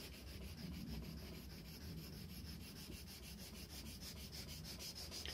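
A leather-working knife with a rounded blade is sharpened on a wet grinding machine, giving a steady, continuous gritty rubbing and scraping of steel against a wet stone, close and even, with no talk.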